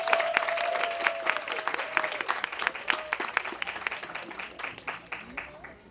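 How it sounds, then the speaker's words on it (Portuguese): Audience applause at an event, a burst of many hands clapping with distinct individual claps standing out, fading gradually over several seconds while a voice speaks faintly underneath. "Peço uma salva de palmas para Caio Silva."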